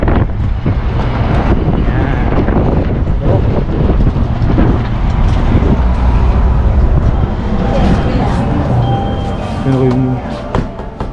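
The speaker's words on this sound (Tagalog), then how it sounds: "Lakas ng hangin." Strong wind roars and buffets the microphone continuously, loud and close, with a voice talking faintly underneath.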